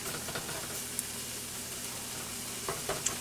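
Flour browning in hot fat for pork chop gravy sizzles in a soft, steady hiss, with faint stirring scrapes and a couple of small pops, no voices.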